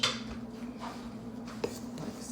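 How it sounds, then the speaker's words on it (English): A spoon stirs a chocolate cocoa mixture in a pot, giving soft, scraping swirls and an occasional light clink of metal against the pan, quiet under a steady background hum. "And then I'm gonna give this a little stir."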